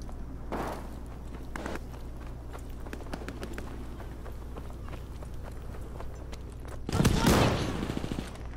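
Shotgun fire in a Team Deathmatch video game: a sharp burst near the start, scattered lighter impacts and footsteps through the middle, then a heavy loud blast near the end, with no talk.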